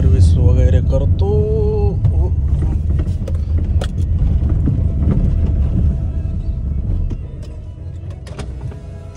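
Maruti Alto 800 car driving and turning into a service center lot, with a steady engine and road rumble throughout, a few mechanical clicks and squeaks, and voices talking over it.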